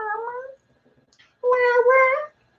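A cat gives two drawn-out meows: a short, steady call first, then a longer, louder, wavering one after a brief quiet pause, heard close with no talk over them.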